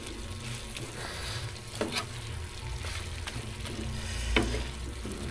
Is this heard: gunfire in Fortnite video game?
no